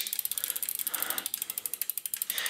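A mountain bike trigger shifter being installed clicks through gears: a fast, even run of crisp, close ratcheting ticks that continues throughout.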